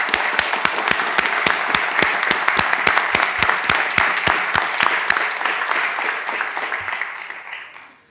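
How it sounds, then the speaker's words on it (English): A board of commissioners meeting audience applauds an award recipient. Loud, steady clapping with crisp individual claps runs for about seven seconds before trailing off. "Let's give Danielle a round of applause."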